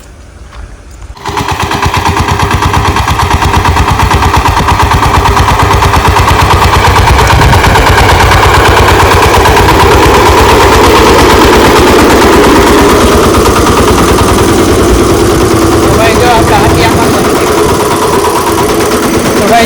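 A horned tractor's engine starts after about a second of quiet, then runs loud and close with a steady rapid chugging throb that continues to the end, with no voices.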